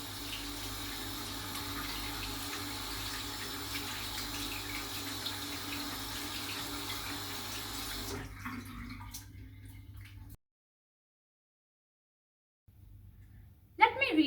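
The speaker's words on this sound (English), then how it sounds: "wash away the soap." Tap water running steadily into a sink while soap is rinsed off hands, a constant moderately loud rush that stops abruptly, followed by near silence and a brief clatter at the end.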